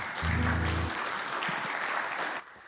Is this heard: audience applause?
yes